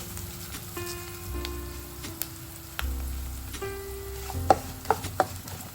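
Sesame seeds fry in hot oil in a pan for a bottle gourd chutney, a soft continuous sizzle with a few clicks and scrapes as they are stirred.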